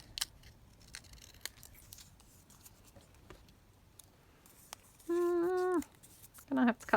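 Scissors snip through a laminated file folder in a few faint, sparse clicks and crisp cuts, followed by two louder tonal squeaking bursts near the end as the blades slide through the stiff plastic.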